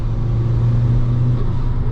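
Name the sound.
Honda Civic FN2 Type R accelerating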